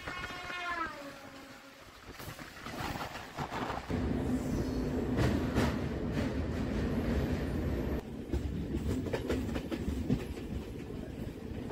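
A Santragachi–Jhargram MEMU train runs between Kharagpur and Jhargram, heard up close as a continuous rumble with rhythmic wheel clatter and rattling carriages.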